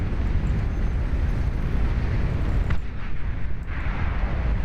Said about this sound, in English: cannon hit the back line